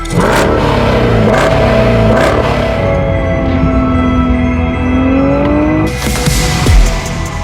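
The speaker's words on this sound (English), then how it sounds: "I got my buddy Doug there on the 2015 GTR, and we're about to rip it" A 2015 Nissan GT-R accelerates hard on an empty road, its engine climbing in a loud, sustained rising drone with a gear change before the revs surge again, close and continuous throughout.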